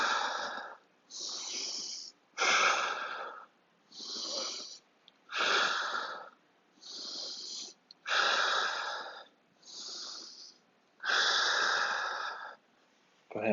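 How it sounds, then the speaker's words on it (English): Slow, deep breaths during a backpack workout, about ten long airy inhales and exhales in an even rhythm with brief silences between, close and fairly loud. "Focus on a deep breath here."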